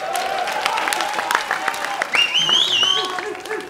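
A rap battle audience at the PunchOutBattles Next Gen theater audition roars, whistles and claps steadily, a loud crowd wash with sharp whistles rising over it and voices mixed in.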